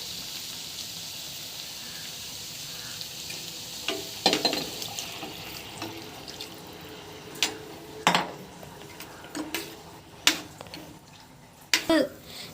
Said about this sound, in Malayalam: ഇനി നമുക്ക് എടുത്തു വച്ചിരിക്കുന്ന വെള്ളം ഒഴിച്ചു കൊടുക്കാം.